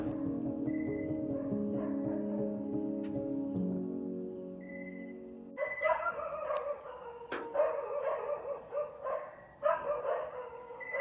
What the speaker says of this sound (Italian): C'è una quantità di cani che abbaiano,